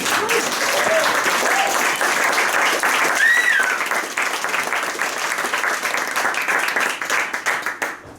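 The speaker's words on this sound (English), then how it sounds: "Can I have a big round of applause for Peter once again?" An audience at a London animation club screening breaks into sustained applause, a dense wash of clapping lasting several seconds before it thins out, with a few voices calling out above it.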